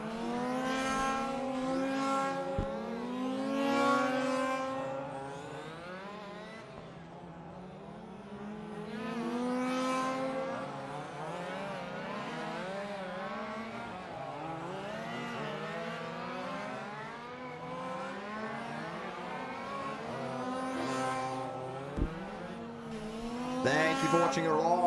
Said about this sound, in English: currently in P6, running the Porsche around. As he makes his way through the short chute onto the back straightaway.